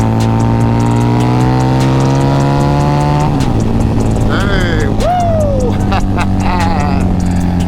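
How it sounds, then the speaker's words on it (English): A loud Harley-Davidson V-Rod Muscle with a TAB Performance exhaust roars close by, its exhaust rising in pitch as it accelerates and shifts through gears, with a sharp whine briefly over the engine. "Is the V-Rod the best sounding Harley ever?"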